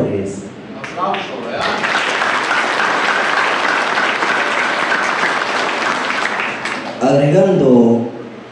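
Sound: crowd applause at festival

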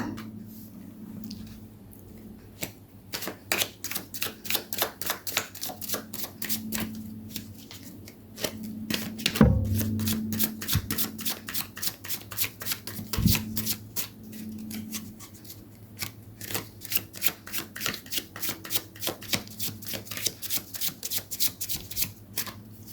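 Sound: shuffling tarot cards

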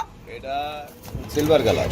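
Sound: exhibition kawa pigeon cooing

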